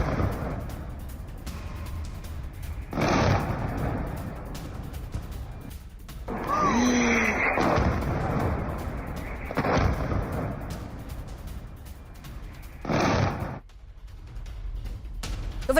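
A planned rocket engine test at Beit Shemesh produces several heavy booming bursts spread over the stretch, each a loud broadband blast followed by a rumbling roar, with quieter rumble between them.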